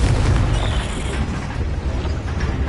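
A Confringo fire spell explodes in the video game Hogwarts Legacy, a dense, rumbling blast with heavy low-end boom and crackling debris that sustains loudly across the whole stretch without pause.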